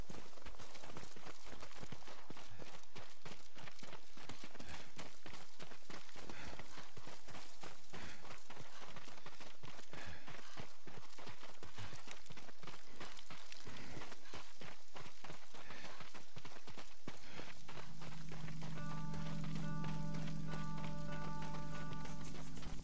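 Footsteps of characters travelling on foot in Ghost of Tsushima, a long run of quick repeated steps and taps, moderately loud and close, ending with a sustained tonal game sound.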